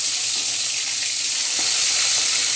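Fish fries in hot oil with a loud, continuous close-up sizzle and hiss that holds steady throughout, with no voices.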